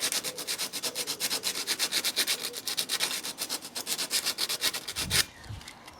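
A round metal file rasps back and forth against a copper pipe in quick, regular strokes, closely recorded and continuing for several seconds before stopping.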